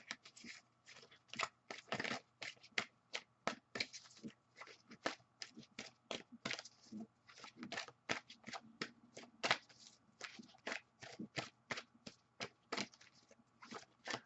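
Tarot cards are shuffled and pulled by hand in a quiet room, a dense run of crisp riffling snaps and flicks in irregular bursts, close and fairly soft.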